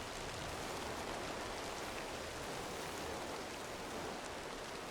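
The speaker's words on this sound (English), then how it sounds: "We've got rain sounds, and we've got lightning, but we have no thunder." Steady, even rainfall in the video game Way of the Hunter 2, a dense continuous hiss of drops hitting surfaces that holds at a constant level throughout, with no thunder and no voices.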